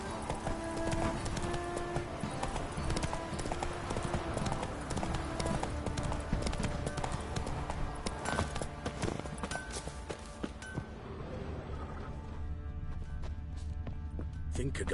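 Horse Roach's hooves clip-clop steadily and close in The Witcher 3, a continuous rhythmic trot over a dense game soundscape of music and ambience, with a voice speaking briefly.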